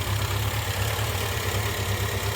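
A Morris Minor ratrod engine idles steadily up close, a continuous low rumble with a raspy edge that suggests a possible exhaust leak, running alone without voices.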